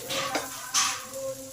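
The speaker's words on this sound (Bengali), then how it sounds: "আবার 5 মিনিট পর ঢাকাটা খুলে দেখি।" A lid lifted off a covered pan of frying potatoes, a short metallic clink and scrape over a soft background sizzle, with no one talking.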